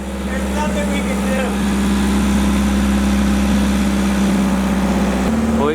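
A rebuilt car engine idles steadily as it warms up, a constant low rumble running loud and close for the whole stretch, with voices talking over it.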